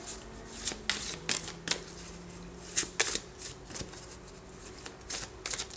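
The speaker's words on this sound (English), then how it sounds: "Pull some more cards to get some more information for you." Tarot cards are shuffled and pulled from the deck in a quiet room, giving a series of crisp, irregular riffles and snaps spread over several seconds, with a faint steady hum underneath.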